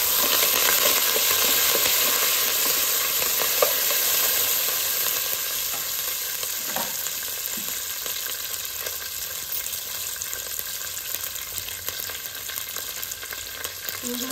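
Curry leaves frying in hot oil, a steady broadband sizzle with faint crackles and pops throughout, close and continuous with no voices.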